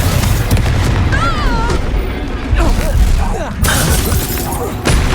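Spell blasts from Confringo and Reducto in the Hogwarts Legacy game burst over and over, loud and close, dense booms and crackles mixed with shouted incantations and bright whooshing spell tones.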